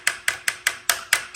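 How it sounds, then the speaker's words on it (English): Seven crisp metallic taps ring out at an even, quick pace as a steel punch is struck with another punch to tighten a brass pin on a circuit board plug, each tap sharp and close. "I use another punch as a hammer just to kind of"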